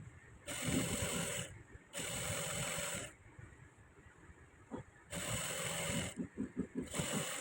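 A sewing machine stitches along a maxi dress skirt, running in steady whirring bursts of about a second, stopping and restarting several times, with a quick stuttering run of stitches near the end.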